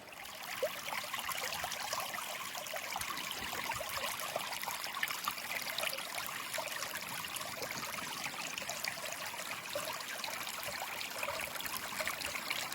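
Water runs over stones in a rocky farm-track stream, a steady, bright babbling and trickling that continues evenly throughout with no voices.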